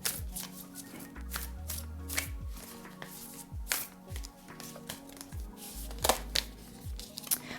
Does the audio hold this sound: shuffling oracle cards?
yes